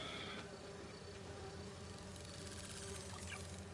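Steady insect-like buzzing from virtual bee wolves in the Marvel's Spider-Man 2 video game, a continuous droning hum with a faint whine, heard alone without speech.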